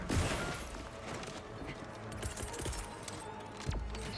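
Autocannon fire in Helldivers 2, set to flak mode against squid enemies, heard as a dense run of heavy repeated blasts amid battle noise, with a louder boom near the end.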